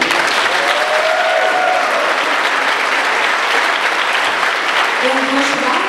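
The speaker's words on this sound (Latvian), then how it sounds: "aplausu gan deju kolektīviem, gan arī žūrijai." Concert audience at a dance competition event in a town culture house applauding the dance groups and the jury, steady sustained clapping filling the hall, with a few faint tonal sounds drifting in underneath.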